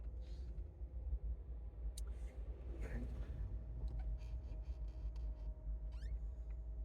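A car idles or creeps along in slow traffic behind a low loader lorry, giving a continuous low engine rumble inside the cabin with faint scattered clicks and rustles, and no clear speech.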